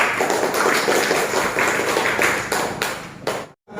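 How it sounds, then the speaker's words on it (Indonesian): A classroom audience claps for a student presentation group, a thick, continuous burst of hand claps that breaks off abruptly near the end before briefly resuming. "Beri tepuk tangan untuk kelompok 1."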